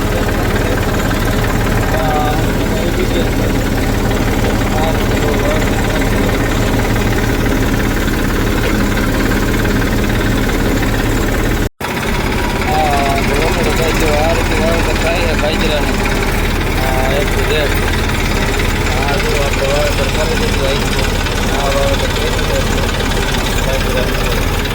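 A tractor engine runs steadily while pearl millet is sown in a field, giving a loud, continuous mid-low rumble that briefly drops out midway and then resumes, with people talking over it.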